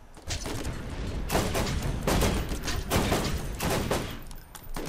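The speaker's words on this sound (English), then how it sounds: "I can shoot through their armor, right?" Sustained gunfire in the Borderlands video game, dense rapid bursts of shots and impacts running nearly continuously and loud throughout, without talk.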